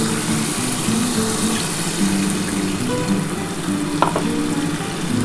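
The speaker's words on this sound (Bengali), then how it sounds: "এবার আমি জলটা দিয়ে দিচ্ছি" Steady sizzling of a Bengali bhola fish curry as water is poured into the hot pan, a continuous frying hiss with a brief clink partway through, close and fairly loud, with no voices.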